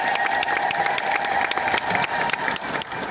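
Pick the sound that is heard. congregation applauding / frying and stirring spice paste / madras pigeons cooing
congregation applauding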